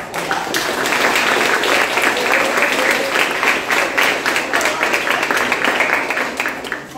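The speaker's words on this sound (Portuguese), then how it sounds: "queria pedir uma salva de palmas para vocês" Sustained audience applause fills a radiology course seminar hall, a dense, steady wash of many hands clapping at once, loud and even throughout with no break.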